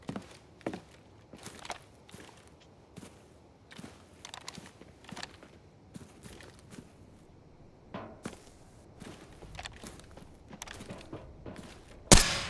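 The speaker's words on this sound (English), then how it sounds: "I'm hearing footsteps on the other side." Footsteps in Arena Breakout Infinite come as a series of soft, irregular thuds and scuffs, faint and at a distance, spread across the whole stretch, ending in one sharp loud crack.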